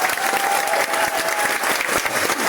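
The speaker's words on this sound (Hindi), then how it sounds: "जोरदार तालियां होना चाहिए" An audience claps hard and fast, a loud, dense, continuous burst of many hands lasting a couple of seconds.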